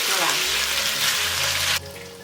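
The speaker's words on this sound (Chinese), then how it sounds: "快速翻炒一下，炒到牛肉变色就先铲出来。" Beef is stir-fried in a hot wok with oil, giving a loud, close, roaring sizzle. The sound drops suddenly to a softer hiss near the end.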